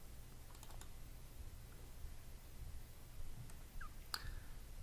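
Faint, sparse computer clicks, a few light, separate taps against quiet room tone.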